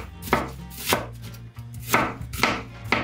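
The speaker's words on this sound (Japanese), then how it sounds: "玉ねぎを薄切りしようかな" A knife thinly slices onion on a cutting board, about six crisp, close chopping thuds at a loose, uneven pace with brief pauses between cuts.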